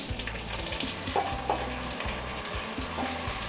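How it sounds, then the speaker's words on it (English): Rice sautés in a pan with onions, pandan leaves and aromatics, giving a steady close sizzle with occasional stirring scrapes and no talking. "you want to saute it with all the aromats for a bit"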